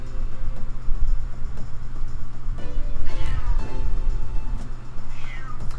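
A house cat meows a few times indoors, short rising calls over a steady low hum from a PlayStation game playing in the room.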